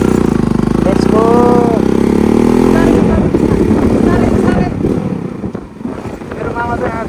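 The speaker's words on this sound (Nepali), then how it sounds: "मामा र म चाहिँ अब बाइकमा जानुपर्ने हुन्छ लेट्स गो" A motorcycle engine revs up close and pulls away over a loud rumble as a rider heads out with a passenger toward a bridge on the way to a cave waterfall, with people talking briefly over the engine noise.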